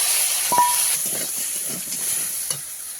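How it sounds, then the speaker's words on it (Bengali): Crab pieces with turmeric, salt and neem leaves fry in hot oil, a close, continuous hissing sizzle with a few soft stirring knocks. "কাঁকড়াটা লাল লাল করে ভেজে নেব"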